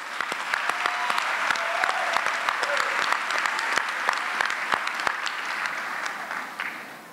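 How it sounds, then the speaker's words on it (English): A large audience at a university commencement ceremony claps steadily for several seconds, a dense sustained round of applause that tapers slightly near the end. "Give them a round of applause."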